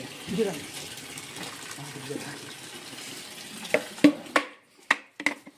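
Tap water gushes steadily into a container being filled for Holi colour play, with people chattering nearby; the flow ends, followed by a few sharp knocks and clatters.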